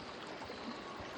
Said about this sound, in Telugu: సో వాటర్ సౌండ్ చాలా.